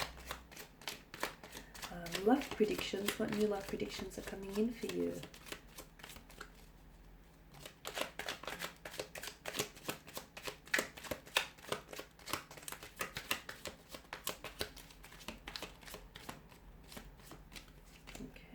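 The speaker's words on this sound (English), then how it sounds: "So I'll give the cards a shuffle here" Tarot cards are shuffled repeatedly in quick riffling bursts, with someone speaking briefly over the start before the shuffling continues alone.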